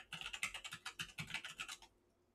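A computer keyboard typing a short terminal command: a quick run of about fifteen crisp, close keystrokes, ending in a last press and then quiet. Soft and isolated, with no voices.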